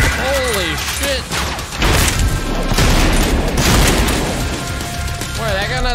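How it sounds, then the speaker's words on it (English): Gunfire with heavy recoil in the shooter game Trepang2, a dense run of loud booming shots and bursts layered with game music and effects, with someone talking over parts of it. "Boy, that gun has a lot of recoil."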